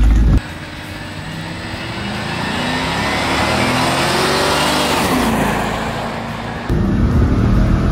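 A stock Cadillac Escalade launches hard in a speed test, its engine roaring loudly and climbing in pitch through the gears, with a brief shift dip before the roar surges again near the end.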